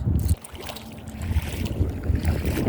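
Wind gusts roar and buffet the microphone outdoors during a walk searching for flint flakes, a steady low rumble with brief dips, no talking.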